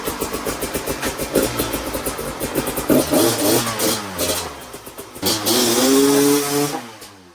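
A dirt bike fitted with a Lectron carburetor revs repeatedly, with sharp throttle blips and rising, falling engine pitch, building to a loud sustained high rev before cutting off abruptly.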